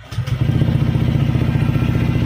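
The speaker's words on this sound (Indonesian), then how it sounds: "Kita coba starter, apakah bisa?" A motorcycle starts on an electric starter powered by a LiFePO4 lithium battery, with a brief crank followed by the engine catching and settling into a loud, steady low idle close by.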